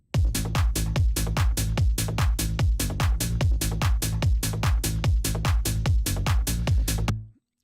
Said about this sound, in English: would have been the kick and the bass and the drum groove